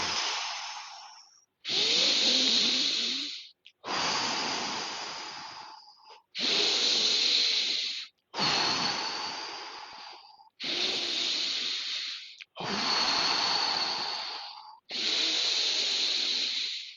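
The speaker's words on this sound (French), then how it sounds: "Quelques bonnes respirations." Slow, deep breaths during a guided French meditation and stretching exercise: eight long, close airy inhales and exhales, evenly spaced with short pauses between.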